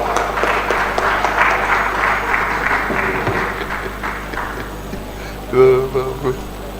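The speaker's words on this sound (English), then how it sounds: "Please, a round of applause for" Audience applause at an award presentation for a former governor of the Eastern Bar Forum in Nigeria, a steady spread of clapping from a crowd, followed near the end by a brief louder burst of voices and noise.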